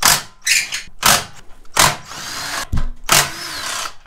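A power tool, likely an impact driver, removing bolts from a tow bar on a 2021 Isuzu D-Max X-Terrain, heard as loud close bursts of whirring and rattling separated by short pauses.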